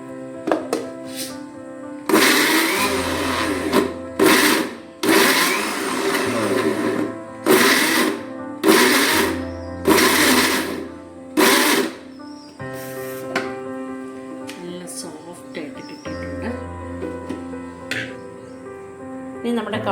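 A kitchen mixer grinder kneads chapati dough in bursts, its loud whirring motor starting and stopping repeatedly over a steady background tone.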